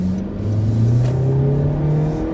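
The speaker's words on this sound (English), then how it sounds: "It's letting the RPMs go right up to the red." A 2019 Honda HR-V engine revving in sport mode with paddle shifters, a loud steady climbing drone heard from inside the cabin, no voices.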